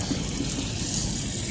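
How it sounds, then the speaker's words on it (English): Water from an outdoor shower pours and splashes steadily in a continuous close rush, with no voices over it. "Outdoor shower for the win."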